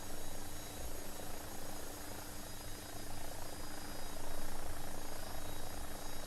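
A simulated AW-109 helicopter in the X-Plane 12 flight sim gives a steady, fairly quiet rotor and engine drone that holds evenly throughout with no speech.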